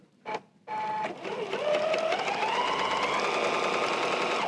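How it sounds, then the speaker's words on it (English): A sewing machine stitches a long seam on quilting fabric for a table runner, starting with a couple of short bursts and then running steadily at rising speed, close and alone. "I'm going to stitch down the long side"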